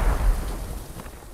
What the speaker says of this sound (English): I'm gonna frag north. Frag out.